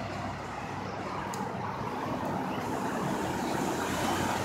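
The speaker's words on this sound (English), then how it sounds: "Hate this traffic." Steady road traffic rumbling past a pedestrian walking along a street corner, a continuous broadband wash of car and truck noise that stays fairly loud throughout with no talking.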